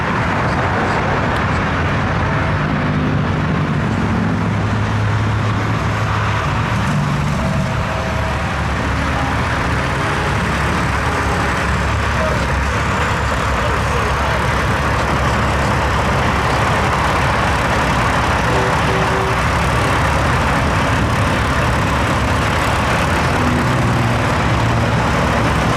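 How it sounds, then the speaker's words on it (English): Peterbilt and Kenworth trucks with double J brackets roll past in a long convoy, making a loud, unbroken roar of heavy diesel engines and road noise that holds steady throughout. "Double J bracket trucks, and that is Peterbilt and Kenworth."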